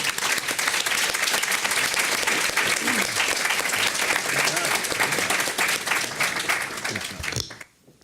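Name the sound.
audience applause for the panelists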